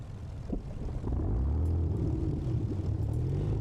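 Avro Lancaster radial engine cranking and catching in Microsoft Flight Simulator, a deep rumbling roar that swells to a steady heavy drone after about a second, alone and fairly loud.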